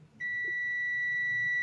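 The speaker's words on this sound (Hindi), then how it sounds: "तो आपको एक बजर की आवाज आएगी" A digital AC/DC clamp meter in continuity mode gives a steady, loud, unbroken electronic beep that starts abruptly and holds for over a second, with no voices.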